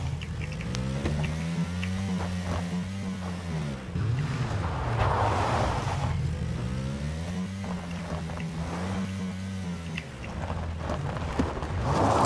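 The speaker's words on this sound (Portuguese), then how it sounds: "Vais por o carro à frente." Steady drone of a vehicle engine in PUBG, its pitch rising and falling in repeated revving arcs over about twelve seconds, loud and continuous with faint background noise.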